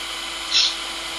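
A power drill bores a pilot hole for small screws while a portable router table is being built, giving one short, high whine that rises and fades within a fraction of a second over a quiet background.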